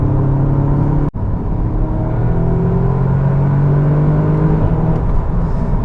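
An Audi S3 pulls hard in 4th gear after a downshift from 5th at about 2,500 revs, its engine a steady, loud droning rumble with rising whir, heard from inside the car and briefly cut near the start.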